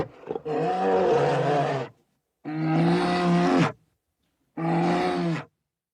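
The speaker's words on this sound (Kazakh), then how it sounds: "аю" A bear gives three loud, deep, rasping roars, each lasting one to two seconds, separated by short silent pauses.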